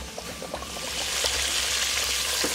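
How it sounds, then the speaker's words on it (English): Chicken fried steak is lowered into hot oil in a fryer, giving a steady bubbling sizzle that swells and holds for a few seconds with no one talking. "As with frying anything, you want to dip it in, move it around, and slowly let go."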